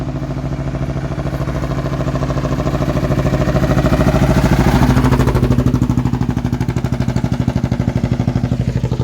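A nearby engine on a Thai road chugs in a steady rapid pulsing rhythm, swelling louder mid-way then easing back, like a single-cylinder motorbike or small utility vehicle idling and revving close by, with no voices.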